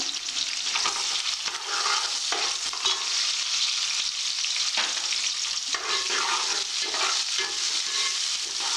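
Onions frying for sanna rava upma give a loud, dense, continuous sizzle with occasional stirring scrapes, steady and close throughout.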